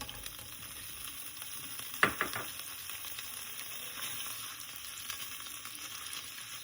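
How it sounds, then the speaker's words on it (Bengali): Paneer cubes frying lightly in almond oil, a steady soft sizzle throughout with a couple of sharp clatters near the two-second mark as the pieces are moved in the pan. "এবারে পনিরগুলোকে হালকা একটু ভেজে নিতে হবে।"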